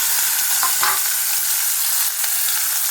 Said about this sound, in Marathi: तेल तापल्याच्या नंतर आपण आता ह्याच्यामध्ये कांदा ॲड करूया.